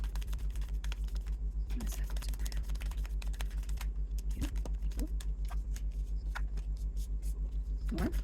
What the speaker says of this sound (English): One more shuffle, one more card.